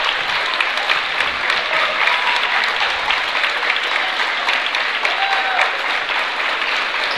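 Sustained applause from a big home crowd at a high school boys basketball game, Hinton at Watonga, loud and dense clapping with no break throughout.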